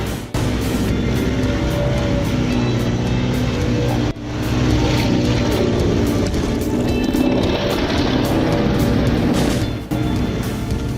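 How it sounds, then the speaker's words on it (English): A Bandit 3500 stump grinder chews into a tree stump with a loud, continuous engine roar and grinding rasp, nearly unbroken apart from brief dips where the cutter load eases, with no talking. "showcasing the raw cutting and grinding strength of the Bandit"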